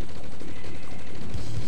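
Gunfire from units in Command and Conquer Red Alert, playing as the Soviets: a dense burst of game shots and low rumbling impacts, with a heavier thump near the end, loud with no talking.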